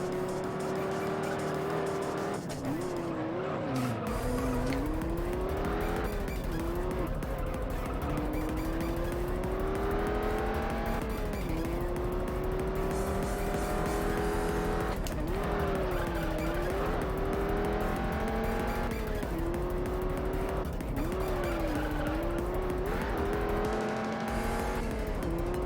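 Race car engine in a racing video game holding 4th gear through a corner, a loud steady drone whose pitch dips and climbs with throttle changes, with faint tire squeal, continuous throughout.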